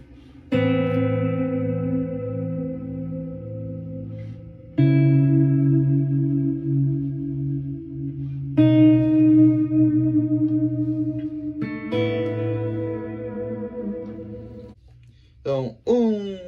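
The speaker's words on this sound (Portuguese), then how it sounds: "Aqui tá o reverb modulado tá acionado." Clean low-gain electric guitar set for worship ambience, run through modulated reverb and delay, plays four sustained chords that ring and trail off into echoing tails, ending with a few short plucked notes.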